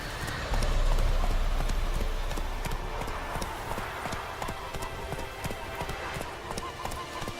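Rhythmic hoofbeats from a galloping horse in the video game Witcher 3 drum steadily all the way through, close and continuous, with a low rumble swelling early.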